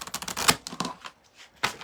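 A deck of oracle cards is shuffled by hand in a quiet room, giving quick, light riffling clicks and soft slaps in short irregular bursts with brief pauses.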